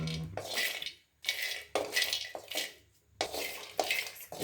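Idli podi ingredients being sautéed in a pan, sizzling and scraping in repeated bursts with short pauses between strokes, close and moderately loud.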